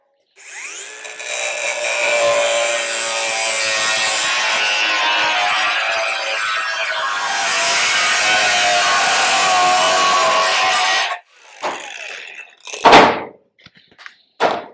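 A grinding disc cuts into the roof of a 1968 VW Bug, whining loud and steady for about ten seconds before it stops, then a few short metallic knocks and clatters follow.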